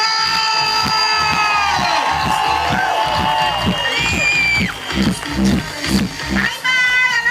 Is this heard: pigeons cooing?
no